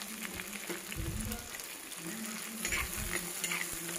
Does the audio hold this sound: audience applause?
no